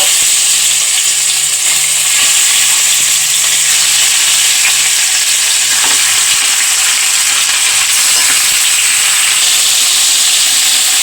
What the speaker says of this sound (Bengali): তেলের মধ্যে নুন, হলুদ মাখানো মাংসটা ভেজে নেব।